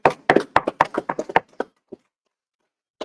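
People in a scripture class room clap in a quick, uneven burst of about a dozen sharp claps, close and loud. The claps taper off into silence, then a single late clap follows.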